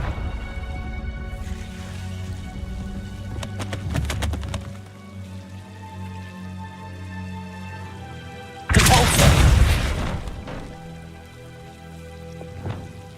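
A Confringo spell explosion in the video game Hogwarts Legacy bursts loudly and broadly midway, after earlier crackling magical effects and a low rumble, then fades into quieter ambient game sound.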